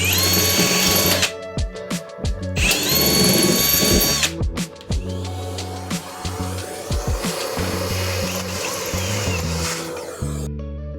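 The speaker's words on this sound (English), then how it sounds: "All the holes have been drilled" Power drill boring holes into the metal body of a van, with bursts of high whining drilling between brief pauses, loud and close, and some clattering handling noise in the gaps.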